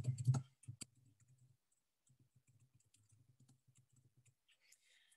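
Typing on a computer keyboard, a few sharp clicks at first, then a run of soft, quick, uneven keystrokes that stops and resumes faintly, with no voices.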